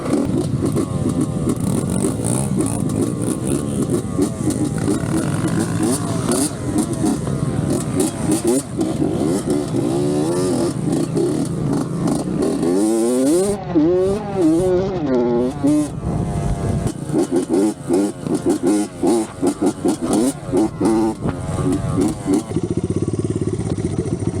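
A motorcycle engine rumbles loud and close throughout, its pitch rising and falling as it revs, with people talking excitedly over it.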